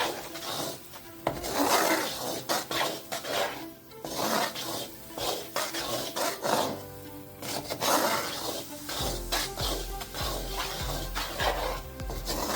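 Flour being parched in a pan: continuous scraping and rasping of a utensil against the pan, with irregular clinks and stirring strokes throughout and no voice.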